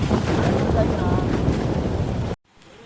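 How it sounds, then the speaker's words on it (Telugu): Strong outdoor wind buffets the microphone during a Ganesh festival idol outing, a loud, steady broadband roar that runs for over two seconds before cutting off abruptly to near quiet. "ఫుల్ గాలి ఉంది ఇక్కడ."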